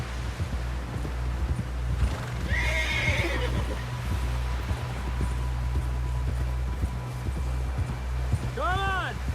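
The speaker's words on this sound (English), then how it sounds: "Someone help John down off this horse" Hooves clip-clop steadily beneath a low rumble in Red Dead Redemption 2, with a horse whinnying midway and again near the end, amid faint voices.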